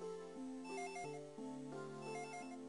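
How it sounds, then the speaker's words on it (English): A harsh electronic phone ringer from a Dragon Ball Z: The Legacy of Goku 2 game session plays a repeating stepped melody, loud and steady, with no talking over it. "That is the terrible phone ringer."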